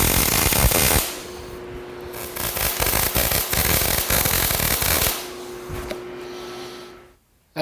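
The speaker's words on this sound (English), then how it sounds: "As we get parts of this ramp tack welded together" Tack welding steel parts of a 16-foot car hauler ramp, harsh crackling sputter and sizzle in several bursts, loud and close, with a steady electrical hum between them.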